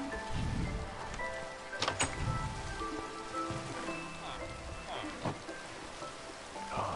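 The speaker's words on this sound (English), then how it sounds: "Oh, it's raining." Rain falling in Minecraft, a dense steady patter of drops on surfaces running throughout with a few sharper splashes, and voices talking over it.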